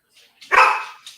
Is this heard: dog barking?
yes